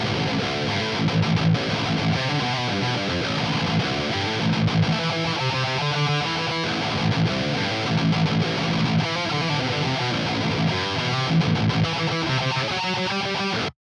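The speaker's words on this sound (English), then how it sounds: "So for the main rhythm, I chose amp 3, rhythm 3, which is based off the Mesa Boogie Dual rectifier" Heavy distorted rhythm guitar through an amp plugin modelled on a Mesa Boogie Dual Rectifier, played solo as tight chugging riffs with palm-muted bursts and sustained chords, loud and dense throughout with no talking.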